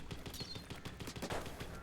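Rapid automatic fire from the 52 weapon in a video game comes as a fast, evenly spaced string of shots that is fairly faint and continuous.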